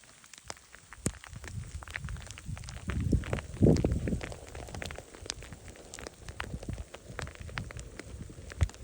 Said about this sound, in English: Alright, hail's starting to come down.